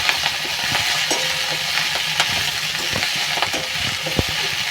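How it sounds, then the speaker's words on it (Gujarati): Fenugreek leaves and eggplant sabzi sizzle loudly in a pan while a spoon stirs them, with a steady frying hiss broken by repeated scraping clicks and clatters, close up and without speech. "બધું બરાબર મિક્સ કરવાનું છે."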